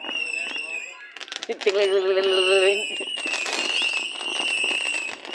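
Small firecrackers pop in a fast, dense crackling burst, like a pot full of little bangs, with sharp transients spread across the clip and people talking loosely over it.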